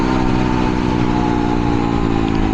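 A Honda Trail 125 with an aftermarket big-pipe exhaust cruises on narrow Kentucky backroads, the engine humming evenly and loudly up close throughout, with no talking.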